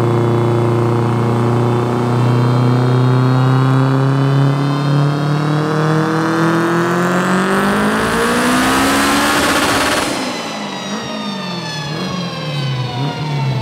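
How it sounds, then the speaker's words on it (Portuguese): A Honda EG6 with a turbocharged K20 engine revs hard on a dynamometer as its wheels slip, engine pitch climbing steadily to a loud high scream, then dropping sharply as the throttle closes. "Quando um carro patina no banco de potência, é assim"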